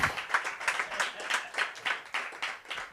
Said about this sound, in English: Just gonna pose for a big round of applause, ladies and gentlemen